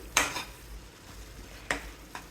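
A spoon stirs sugar into a tomato curry in a pan, giving a few soft scraping strokes with quiet gaps between them and no talking.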